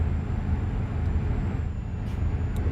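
A video game truck engine rumbling low and steady, with brief faint hisses of air brakes near the end.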